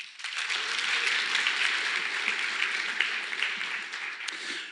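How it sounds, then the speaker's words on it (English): Audience applause greets a contestant walking on stage at a live quiz-show-style lightning talk at a software conference, a dense, steady clapping that starts almost at once and holds evenly throughout with no voices over it. "Round of applause, everyone."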